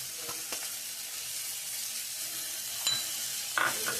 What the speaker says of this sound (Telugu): నూనెలో కూడా మనకి చక్కగా ఏగింది